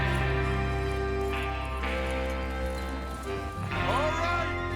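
Horses trot along in Red Dead Redemption 2, their steady hoofbeats running under a dense bed of game music and speech for the whole stretch.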